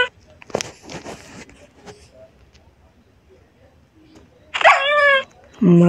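A small dog in a crafting and building video game lets out a short, sharp yelping bark after a stretch of quiet game sounds, followed by another louder burst.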